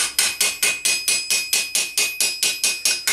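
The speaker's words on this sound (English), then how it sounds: "we can lift that out with the hammer" Steel hammer striking an armour plate to shape and smooth fluting, a fast, even series of about fourteen sharp metallic blows ringing close by with no talk.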